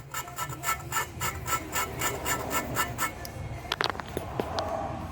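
A valve lapping tool is worked back and forth against an engine valve on a Cobra build, producing rhythmic rasping rubs in quick regular strokes, followed by a few sharper scrapes and clicks.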